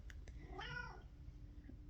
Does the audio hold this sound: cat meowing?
yes